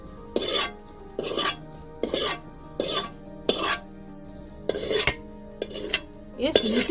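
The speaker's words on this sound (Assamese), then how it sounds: "এই সুজিটো হৈ গ'ল আৰু ইমানেই ভাজিব লাগে।" Semolina is roasted in a pan and stirred with a utensil, making repeated rhythmic scraping strokes about twice a second, each a short bright rasp against the metal.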